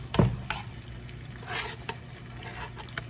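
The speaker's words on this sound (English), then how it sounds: "I'm gonna cook some tomato in there." Chopped tomato cooking in a pan for a Haitian-style spinach dish, a soft low sizzle with a few stirring scrapes and a louder clatter near the start, quiet and steady throughout.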